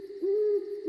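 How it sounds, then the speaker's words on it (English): An owl hoots in a cartoon, a single steady tonal hoot that is sustained and clear, alone with no talking. "It was just an owl hooting."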